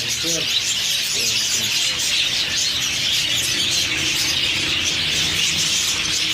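Caged birds at a bird and animal market in Rawalpindi: a dense, continuous wash of high chirps and tweets from many birds, with faint low voices of people underneath.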